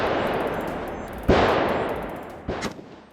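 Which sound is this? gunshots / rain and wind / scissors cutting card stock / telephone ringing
gunshots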